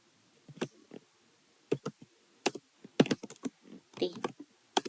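A computer keyboard typing out a Python string, with quick clusters of crisp close keystrokes in uneven bursts and short pauses between them, alone with no talk over the keys.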